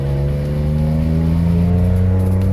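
A 2008 Jeep Wrangler Unlimited with a 3.8 liter V6 and aftermarket exhaust revs steadily, its loud, close engine drone holding a throaty hum that climbs slightly in pitch without pause.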